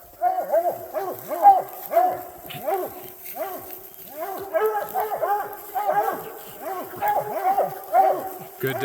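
Hound dogs bay and bark repeatedly at a bear treed with cubs in the Gila Wilderness of New Mexico, a dense chorus of howling barks close by.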